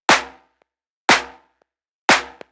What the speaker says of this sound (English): You have yourself a synth snare.